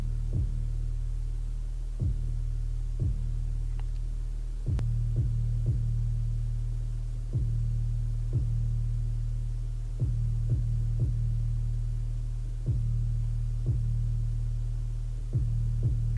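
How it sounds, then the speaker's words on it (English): Deep 808 bass layered under kick drum hits in a beat programmed on an Akai MPC Touch, soloed so booming low thumps land in an uneven rhythm over a sustained low bass tone, with no other instruments. "So I kind of kept the 808s layered on the kick."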